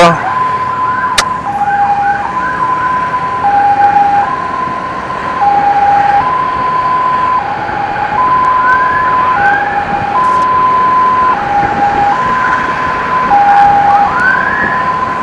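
A two-tone ambulance siren wails steadily throughout, alternating high and low notes over a constant rumble of traffic.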